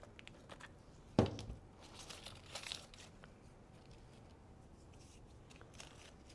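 Cutters snipping through a silk flower stem in a red magnolia Christmas arrangement: one sharp, close snap followed by faint rustling of the artificial foliage, then quiet.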